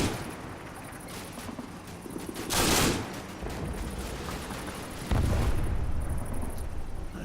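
Soldiers in the Combat Mission wargame exchange gunfire in a continuous crackling battle din, with two louder bursts of heavy fire or blasts punching through the background.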